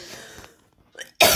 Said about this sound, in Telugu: దగ్గు వస్తుందండి, ఏమనుకోకండి